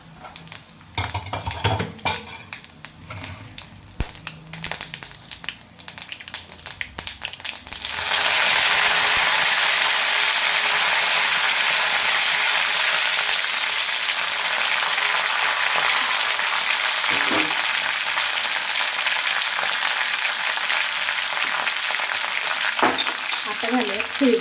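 Curry leaves hit hot oil already crackling with cumin and mustard seeds for a dry potato bhaji. Faint clinks come first, then a loud, sustained sizzle bursts in and holds steady to the end.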